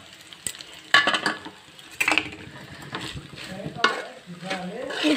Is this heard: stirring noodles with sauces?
yes